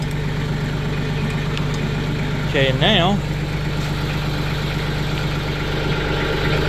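A tractor engine idles steadily with a low, even rumble, close and continuous, while someone speaks briefly over it.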